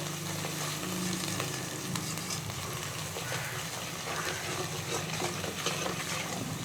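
Onions fry with salt in a pan for an aloo and green chickpea curry, a dense continuous sizzle heard close and fairly steady, with faint stirring and no one speaking.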